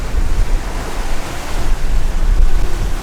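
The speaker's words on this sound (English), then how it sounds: "lovely storm popped up here" Storm winds over 30 knots and breaking waves surround a sailboat on a coastal passage off Cape Lookout, a steady loud roar of surf and gusting wind buffeting the microphone throughout, with no voices.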